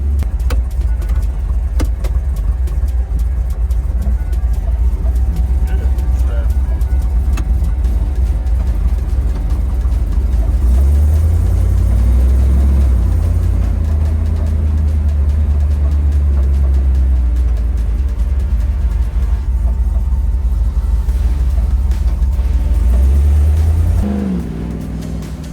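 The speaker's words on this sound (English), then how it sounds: "We're driving around a rock crawl Bronco on 40s with 538s on" Rock crawl early Ford Bronco with a 6R80 transmission swap on 40-inch tires and 5.38 gears drives along, its engine a loud, steady low rumble that swells midway and drops off near the end.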